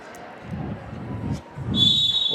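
A referee's whistle sounds sharp and piercing near the end at a women's roller hockey match in Scandiano, following a stretch of low arena rumble and murmur.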